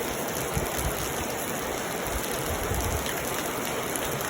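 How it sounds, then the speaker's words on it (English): Heavy rain pours down steadily, a dense unbroken hiss of falling water close by that fills the whole moment with no pauses. "Any day that I wanted to shoot, rain must fall."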